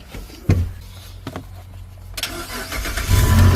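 A used car from a car lot cranks with a sharp burst, stumbles through a few uneven beats, then catches and settles into a loud, steady engine running close by.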